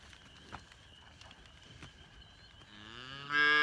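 A pregnant cow in a cattle yard lets out a loud, close moo that swells near the end, following quieter shuffling and faint yard noise.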